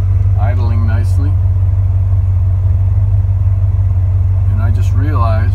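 A 1973 Corvette Stingray's engine idles with a loud, steady low rumble heard from inside the cabin, continuous throughout, while someone talks briefly at the start and again near the end.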